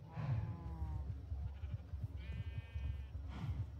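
Blocky sheep in Minecraft give a few short bleats, one early and one mid-clip, over a low rumbling game background.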